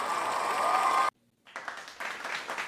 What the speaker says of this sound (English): I'm going to give myself a round of applause just because I can.